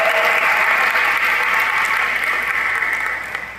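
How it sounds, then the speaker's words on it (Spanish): A church congregation applauds loudly and steadily at a worship service, a dense wash of many hands clapping that holds strong before easing slightly near the end. "Le puede dar un fuerte aplauso otra vez al Señor"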